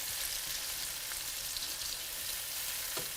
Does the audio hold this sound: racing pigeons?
no